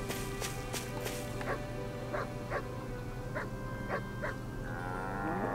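A cow lows repeatedly in the video game Tales of Arise, several moos in a row over a steady ambient game soundscape, with a rising tone near the end.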